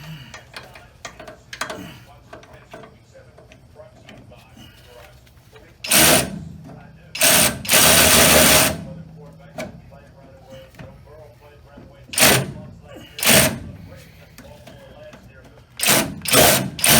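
A power tool tightens a nut onto a rubber bushing in an AMC front suspension, bursts of buzzing whir running a second or two, with light clinks and clicks of tools between and a person talking.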